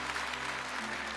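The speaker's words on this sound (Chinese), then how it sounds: "我们再次掌声欢迎，感谢7位评委老师的到来" Steady applause from an audience at a Yue opera youth performers' contest, a dense, even wash of clapping hands filling the hall without a break.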